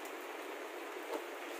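Rain falls on a rooftop garden full of potted plants, a soft, even hiss of drops that stays faint and constant throughout.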